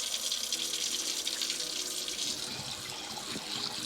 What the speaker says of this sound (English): I rinse my rice about 4 or 5 times just to get all that extra starch off so it's not super sticky.